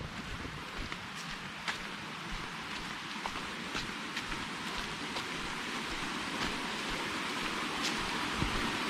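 A small stream flows along the edge of a plot of land, giving a soft, continuous watery hiss with scattered faint drips and clicks and no speech.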